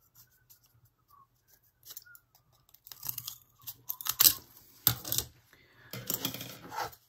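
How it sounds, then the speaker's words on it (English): Scissors snip through wooden popsicle sticks for a farmhouse-style Christmas craft, starting as quiet isolated clicks and building into a cluster of sharp, loud cracks and crunches close by. "I'm going to use my scissors and chop lots and lots of popsicle sticks"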